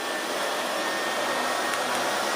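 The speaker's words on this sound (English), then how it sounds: "Low suction." A PREMBOT P3 robot vacuum cleaner runs on its low suction setting, giving a steady, even whir with hiss that holds unchanged close by, with no talking.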